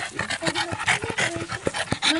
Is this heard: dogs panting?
yes